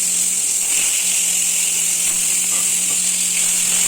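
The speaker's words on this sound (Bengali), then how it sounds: "আলুগুলোকে ভালো করে লাল লাল করে একটু ভেজে নিতে হবে।" Potatoes frying in hot oil in a wok after mustard seeds were tempered, giving a steady close hiss with a faint crackle throughout and no talking.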